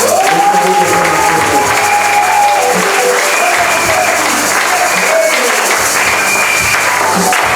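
A church congregation applauds in a dense, steady wash of clapping that stays loud throughout, with music or singing tones running underneath.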